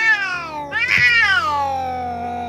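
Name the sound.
orange cat meowing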